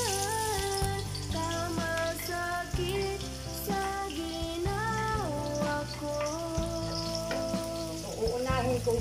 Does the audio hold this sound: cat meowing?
no